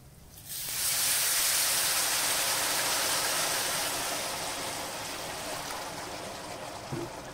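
Water pours into a pan of toasting rice for a creamy rice dish with carne de sol, bursting into a loud, steady sizzling hiss that slowly eases.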